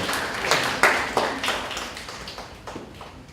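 A church congregation at a college-group worship service claps in a short burst of applause that quickly thins into a few scattered claps and fades.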